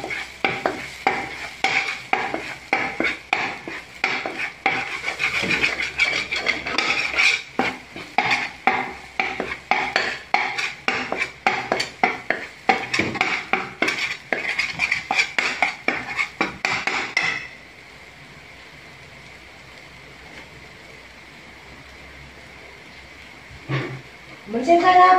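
Curry fish head being stir-fried in a pan, with a spatula scraping and clattering rapidly against the metal over a steady sizzle, then a quieter stretch with a voice speaking.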